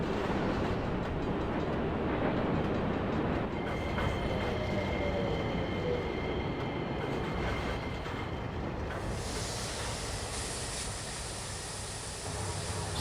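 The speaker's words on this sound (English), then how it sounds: "This train has very strange acceleration," A passenger train on the East Point Branch accelerates in snowy conditions, a steady loud rumble of wheels and carriage noise heard from onboard, with faint whining tones emerging and shifting as speed builds.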